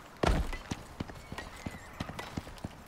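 Horse hooves clip-clopping in the survival video game Icarus, a series of sharp, evenly spaced hoofbeats at close range, with one heavier thud near the start and no voices over them.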